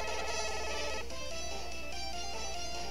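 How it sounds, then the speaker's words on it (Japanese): Phone ringtone in the 3DS game Downtown Nekketsu Monogatari SP, a steady electronic ringing melody, alone and fairly quiet. "ん？ ヒロシから電話か"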